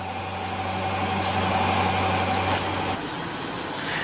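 A 2015 BMW 650i Gran Coupe's 4.4-liter twin-turbo V8 idles steadily with a low, even hum nearby, the tone shifting slightly near the end.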